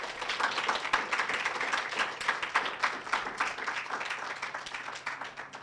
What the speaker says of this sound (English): I wasn't expecting applause after that.